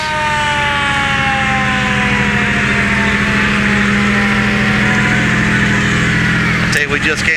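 Hamlet Fire Department Engine 6 sounds its siren at a Christmas parade, a loud, steady wail with sweeping tones and a deep engine rumble beneath, ending with a few sharp bursts.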